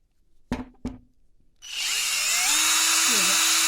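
Two sharp taps, then a cordless power drill starts up and whines steadily, its pitch wavering slightly as it removes a screw from a shower enclosure wheel.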